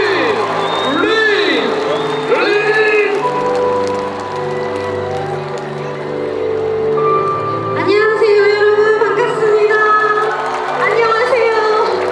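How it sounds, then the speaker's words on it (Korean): Concert audience in Asan cheering and applauding for a singer, a loud, continuous wash of crowd noise with shouts and whoops rising in waves, amplified voices over it. "두 손 높게 드시고 박수로 맞아주시기 바랍니다"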